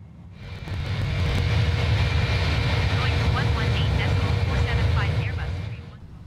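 Airbus A310 airliner climbing after takeoff in Microsoft Flight Simulator, a steady loud roar of jet engines that swells in and fades out, with people talking over it.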